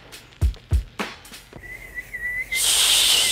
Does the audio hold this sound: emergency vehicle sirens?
no